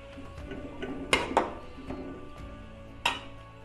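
Carrots stirred in a pan over a low flame, with soft scraping and a few sharp clinks of a spoon against the metal, close and alone.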